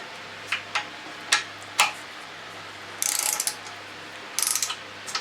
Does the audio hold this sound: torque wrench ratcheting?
yes